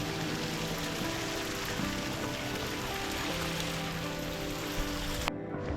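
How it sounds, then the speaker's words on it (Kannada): Light rain falls in a forest near a small stream, a dense, steady hiss of drops that holds evenly throughout and cuts off abruptly near the end. "ಸಣ್ಣ ಮಳೆ ಬರತ್ತೈತಿ"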